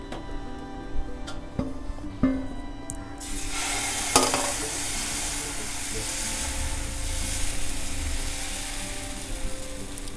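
Jowar (sorghum) flour amboli batter hits a hot pan and breaks into a loud, steady broadband sizzle that holds for several seconds, preceded by a few faint clicks and kitchen stirring sounds.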